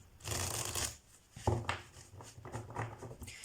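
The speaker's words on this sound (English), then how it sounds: "Okay, let's take cards from this deck." Tarot cards being shuffled by hand, a dry papery riffling and rustling in several bursts, close and fairly soft.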